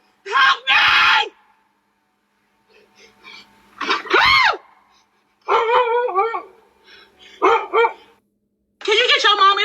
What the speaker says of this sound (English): It's a dog right here.